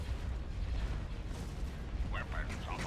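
Proton torpedoes firing in the Star Wars space strategy game Thrawn's Revenge, rumbling bursts and booms over steady battle noise, with a voice speaking near the end.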